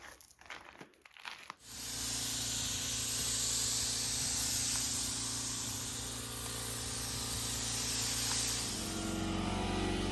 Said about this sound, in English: prepping for the spray gun